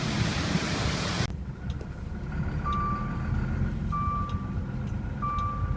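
A lorry drives along a road toward a train terminal, its low engine rumble steady and close, with a high reversing-style beep chiming three times at regular intervals; a loud noisy burst fills the opening second before cutting off.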